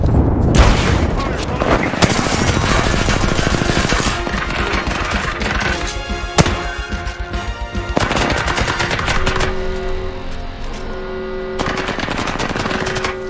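Rapid bursts of gunfire and booming airstrike explosions from the Apex Legends battle royale game, dense and loud throughout with brief lulls, heavy automatic fire returning in clusters toward the end.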